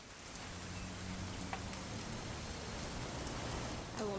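Steady rain falls in the video game What Remains of Edith Finch, a dense, even hiss that holds at the same level throughout, with a faint higher tone near the end.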